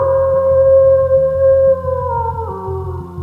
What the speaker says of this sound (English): Let me hear that howl.